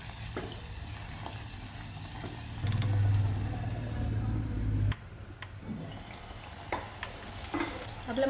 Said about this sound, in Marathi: 1-2 मिनटं आपण हा मसाला परतून घेतलेला आहे